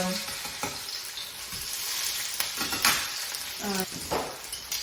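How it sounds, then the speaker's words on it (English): Salmon cakes fry in a pan just after being flipped, giving a continuous close sizzle with occasional clatters and scrapes of a spatula. "The salmon cakes, I'm just going to go ahead and flip those now."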